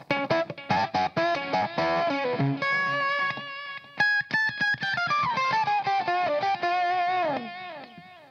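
An electric guitar played through a Voodoo Labs Pro Octavia pedal gives a nasty, fuzzy octave-up tone: choppy, staccato picked notes, then a sustained bend sliding down, loud and up front throughout.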